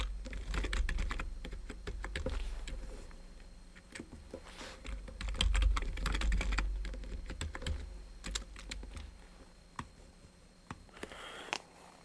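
Someone types a password on a computer keyboard, a fairly close run of quick, irregular key clicks that slows and thins out near the end, with a low background hum.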